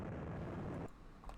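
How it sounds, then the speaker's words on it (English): A mega cannon attack in the Nuclear War game: a dense, rumbling explosive roar that holds steady for most of a second, then cuts away to quiet with a small trailing thump. "I'm going to use the mega cannon just to make sure"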